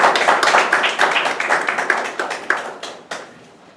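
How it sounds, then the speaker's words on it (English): Audience applause at a Toastmasters club meeting: a dense burst of many hands clapping, loud at first and then thinning into scattered claps that trail off near the end. "Let us give a big applause to Toastmaster."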